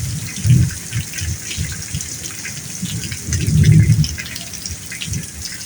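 Heavy rain falls over a farm in the Brazilian sertão countryside. It makes a constant broadband hiss, with low rumbling gusts swelling twice as the downpour surges.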